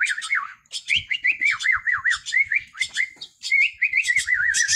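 Rescued birds chirp and whistle close and loud, with rapid rising-and-falling warbles in overlapping bursts that keep up almost without pause.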